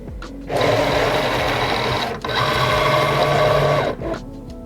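A Momento craft cutting machine loads its cutting mat with a loud, close motor whir that starts abruptly, runs steadily with a brief dip, and then stops with a short mechanical click.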